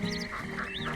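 Short nasal duck quacks in a Red Dead Redemption 2 riverside scene, a few overlapping calls close by over a steady game ambience.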